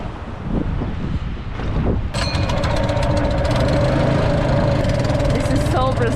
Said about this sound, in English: Turn on the motor.